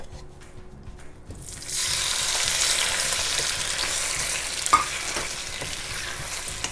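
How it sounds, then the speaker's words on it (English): Tomato dropped into hot cooking oil in a wok for scrambled eggs with tomato, quiet at first, then a sudden loud, steady sizzle that holds with a brief clatter partway through. "So once the oil is getting hot, I put tomato into the wok."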